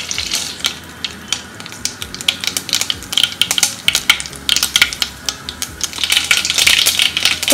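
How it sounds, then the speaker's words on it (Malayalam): Mustard seeds crackle and pop in hot oil in a pan while a Goan prawn balchao is being cooked, giving a dense run of sharp close ticks and spits over a steady sizzle, with no voices. "ഇത് കടുക് പൊട്ടി തുടങ്ങിയിട്ട് കേട്ടോ."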